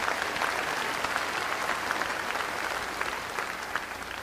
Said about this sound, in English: Could we please give all of those folks a round of applause?